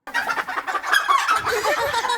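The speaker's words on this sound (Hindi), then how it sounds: "मुर्गा।" Chickens clucking and squawking in a dense, agitated burst, loud and close, as a comic sound effect in a sitcom scene set around a first day at college; no speech.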